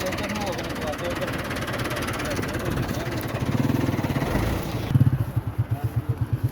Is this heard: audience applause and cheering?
no